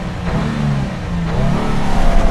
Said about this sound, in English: what full throttle acceleration is like